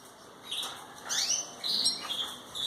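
Belgian canaries in a breeder's room give a few short, bright chirps and tweets in bursts, close by, with no talking.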